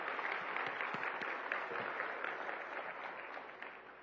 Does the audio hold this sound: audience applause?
yes